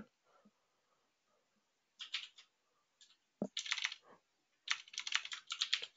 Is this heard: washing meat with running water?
no